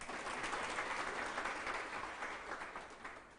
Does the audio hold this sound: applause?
yes